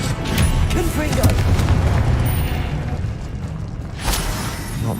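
Confringo fire-blast spell going off in Hogwarts Legacy, a deep booming burst followed by rumbling debris amid combat noise, with a second boom near the end.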